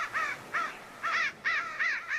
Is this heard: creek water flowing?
no